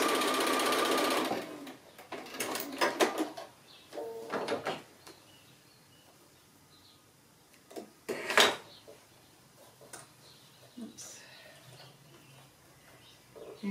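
A sewing machine stitches an appliqué in a short close burst at the start, followed by scattered bursts of handling, fabric and mechanism sounds at moderate to low level.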